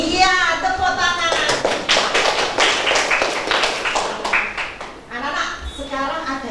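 A classroom of children claps in an uneven burst of quick hand claps, mixed with voices talking over and after it.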